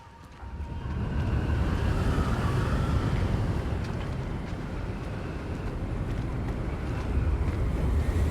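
Steady wind blows in the video game Hogwarts Legacy, a broad, rushing roar that swells in and stays loud and constant throughout.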